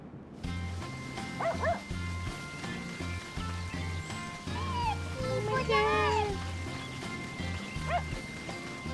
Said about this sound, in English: Do we have 1 million dogs now?